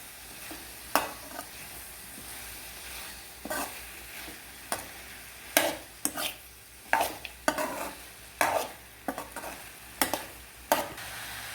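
Roasted peanuts and chickpeas are stirred in a pan, with a series of sharp scraping and rattling strokes against a low frying hiss, close and irregular.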